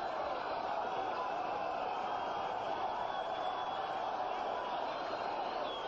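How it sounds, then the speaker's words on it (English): Appreciative boxing crowd in Las Vegas keeps up a steady, loud roar of cheering and murmuring through the end of the 13th round of a heavyweight fight, a continuous wash of many voices with no single shout standing out. "Crowd likes it. Very appreciative crowd here in Las Vegas."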